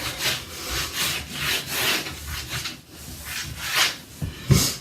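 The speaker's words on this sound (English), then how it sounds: "I'm going to show you how the magic eraser by itself will take it off." Bathtub stains being scrubbed with a magic eraser, a close, loud rhythmic rubbing of repeated back-and-forth strokes, alone without talk.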